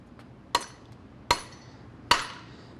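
Three sharp metallic hammer strikes dent a metal bushing casing on a 2021+ Ford F150 during a lift kit install, ringing out at even intervals, each leaving a brief ringing decay, close and alone.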